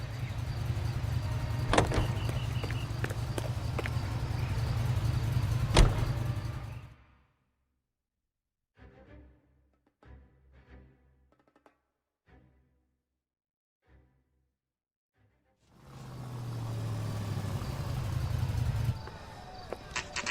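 A car driven in the 1940s Los Angeles crime game L.A. Noire, its engine droning loud and steady, cutting out into near silence with a few faint clicks, then returning with the low engine hum.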